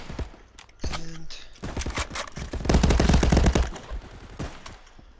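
Bursts of gunfire in the VR shooter Contractors, set downtown, with several loud rapid volleys and scattered single shots that swell into a dense barrage near the middle before trailing off.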